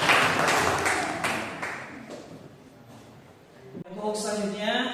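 Students in a classroom break into a short burst of hand clapping that fades after a few seconds, followed by a teacher speaking.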